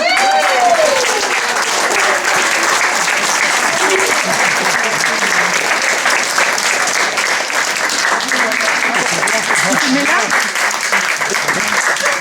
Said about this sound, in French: vous lui faites un tonnerre d'applaudissements